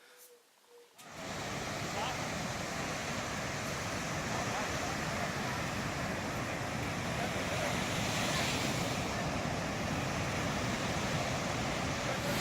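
Steady roar of ocean surf breaking at a beach during a surfing contest at Churches, continuous and loud with wind noise buffeting the microphone after a brief quiet start.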